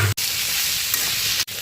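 Fried jackfruit and potato pieces tipped into hot spiced oil in a pan, giving a steady close sizzle with some stirring for just over a second, bracketed by brief cuts.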